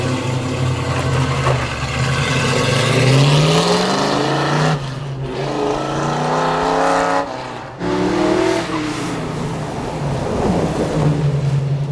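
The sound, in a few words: 1965 Ford Mustang with 4-speed engine revving on a dyno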